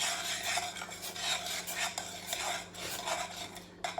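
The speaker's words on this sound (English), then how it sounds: "Just mix in there." A spoon stirs salt into grain-free green porridge in a pot over low heat, giving a continuous close scraping and swishing with a few louder strokes.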